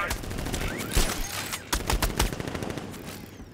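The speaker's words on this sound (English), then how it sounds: "I forgot they put a sentry gun." A sentry gun fires in Batman Arkham Knight, loud rapid bursts of shots crackling in clusters with short gaps between them, while a voice talks over part of the shooting.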